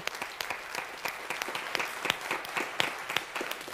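Audience applause in a French TV game show studio, a modest crowd clapping in a loose, uneven patter of distinct hand claps at moderate volume.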